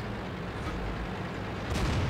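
A tank cannon firing in the video game World of Tanks, a single dull boom over a steady rumbling engine bed, fairly faint and heard alone.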